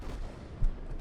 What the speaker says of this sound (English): And just keep on flinging those shells.